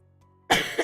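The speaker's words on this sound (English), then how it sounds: "I need this cough to go away." A single harsh cough from someone sick with a lingering month-long cough bursts out after near silence, close and loud, with a second rasping push at the end.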